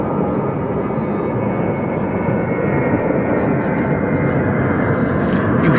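An airplane rumbles near DFW Airport, a steady, broad engine roar that holds level throughout with a slight swell toward the end, heard from a distance without talk.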